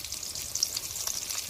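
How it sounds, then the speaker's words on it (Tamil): Mustard seeds and chopped shallots fry in hot oil as the base for a dried fish curry, making a faint, steady sizzle with tiny crackles and pops over a short moment. "கருவாட்டு குழம்பு வைக்கிறதுக்கு எண்ணெய் ஊற்றிக்கிடலாம். கடுகு, அதுக்கப்புறம் வெட்டி வச்ச சின்ன வெங்காயம்"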